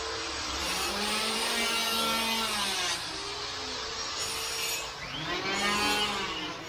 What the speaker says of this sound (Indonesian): amplas jendela bagian sini teman-teman